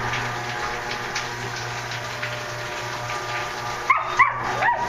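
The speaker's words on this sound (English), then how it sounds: "Sound like the boys are barking." Several dogs bark and yip in a short burst near the end, sharp and fairly close, following a steady hum of background noise.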